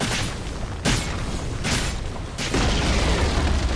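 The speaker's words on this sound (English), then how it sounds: "Radiant's middle tower has fallen." Radiant middle tower collapsing in Dota 2, a dense rumbling boom with repeated crashing bursts over a steady game-sound bed, loud and continuous.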